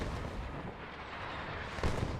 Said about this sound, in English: Another artillery bombardment, also a smoke, and also a bombing run called in.